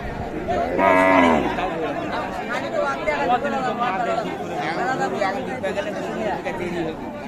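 A Deshal or Sahiwal dairy cow at the Raniganj cattle market lets out one loud, nearby moo, surrounded by steady crowd chatter and someone talking throughout.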